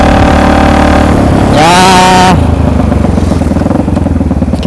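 A Yamaha Jupiter MX motorcycle engine on a ride, loud and close, runs steadily, then revs up with a rising whine for about a second before settling back to a pulsing idle-like putter; a brief word is spoken.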